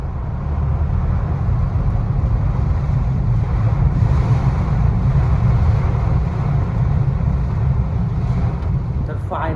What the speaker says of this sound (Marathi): अजूनपर्यंत वारा पाणी चालूच आहे, अजून कमी ना झालं